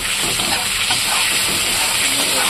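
Ginger and cumin paste fry in a pan for a bottle gourd dish, a continuous loud hissing sizzle that stays close and steady with no voices.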